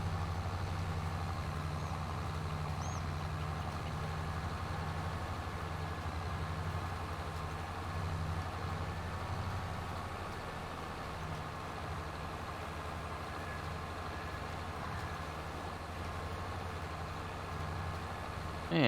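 Steady, low engine drone from a tractor planting sorghum in the Farming Simulator video game, a constant idling-like rumble running quietly and unchanging throughout with no talk.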